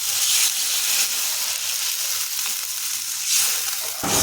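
Potatoes fried with spices sizzle loudly in a pan as water is poured in, a bright steady hiss with brief surges and a sharp burst near the end.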